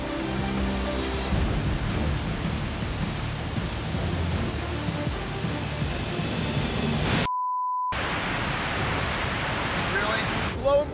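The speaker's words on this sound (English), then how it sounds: "Lo and behold, there's a waterfall." A waterfall in a canyon gives a constant, loud broadband roar throughout, broken once by a short beep tone and a moment of silence before the rushing water returns.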